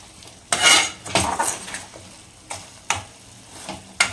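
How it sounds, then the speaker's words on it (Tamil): Dried anchovy thokku mixed in a pan, with several distinct metal scrapes and clanks of a spoon against the pan at an irregular rhythm over a faint low sizzle. "நல்லா இப்படி மிக்ஸ் பண்ணிக்கலாம்."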